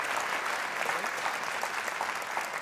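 An audience claps in a steady burst of applause after a talk, full and continuous throughout, with faint voices mixed in.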